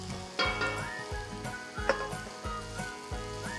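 Roasted vermicelli tossed into salted vegetables in a pan, sizzling and frying steadily with regular scraping stir strokes about every half second and light clinks of the spoon against the pan, close and moderately quiet.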